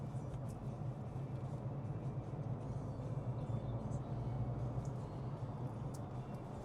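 A learner's car accelerating up through the gears as it merges onto a motorway, a faint steady engine and road drone with low rumble throughout, no talk heard.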